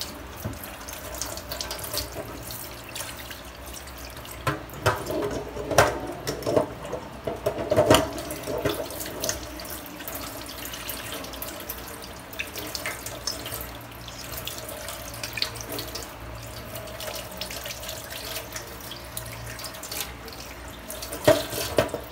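Kitchen tap water runs steadily into a sink while food is washed before boiling, a continuous hiss with occasional splashes and knocks, close and fairly loud with no talk.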